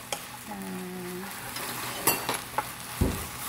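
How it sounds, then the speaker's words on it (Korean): Ingredients for a yam and seaweed soup stir-frying in a pot, with a soft sizzle under scattered clinks and scrapes of a utensil against the pot. "자 이렇게 해서 이거를 이렇게 한번 볶아주세요 여러분."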